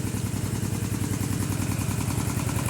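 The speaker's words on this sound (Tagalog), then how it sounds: "Ito yung makina andito sa ibabaw." A motor driving an irrigation water pump in a rice field in Nueva Ecija runs at a steady, loud, close drone with an even low throb and no pauses.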